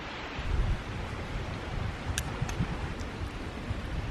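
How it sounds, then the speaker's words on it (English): Gusty wind buffeting at a backpacking campsite by a wood fire on the West Rim Trail, Pennsylvania, a steady rough rushing with low rumbles against the microphone and a few faint crackles, no one speaking. "It's awfully windy right here."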